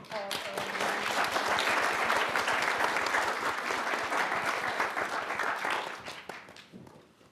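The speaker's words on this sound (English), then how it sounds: "I want to give another round of applause." An audience at a marketing professionals panel breaks into sustained applause, a dense wash of clapping that swells, holds for several seconds and then fades out, with faint voices underneath.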